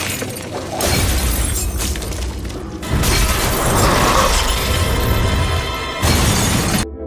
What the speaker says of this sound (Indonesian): Nick pun melempar sebotol minuman keras ke arah televisi hingga membuatnya meledak